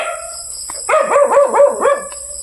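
A dog barks in a quick series of about five sharp barks, fairly close and loud, after a brief quieter yip at the start, with a steady high tone running in the background.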